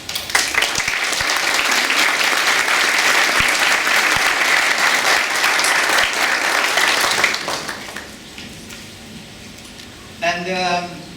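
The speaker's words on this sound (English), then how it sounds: "I want just a small applause for them" A conference opening ceremony audience breaks into sustained, loud applause for the organizers, a dense wash of clapping lasting about seven seconds before fading, with a brief burst of other sound near the end.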